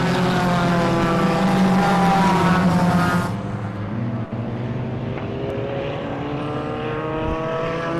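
A Mazda MX-5 race car at Zwartkops in a 500 endurance race roars loudly past on the track, its engine note droning steadily and then dropping as it pulls away, with other engines continuing behind.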